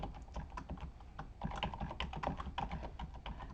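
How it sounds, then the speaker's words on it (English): Quiet, rapid clicking of a computer keyboard as a club name is typed, with keys pattering steadily and close by and no voices. "I'm going to type my club name"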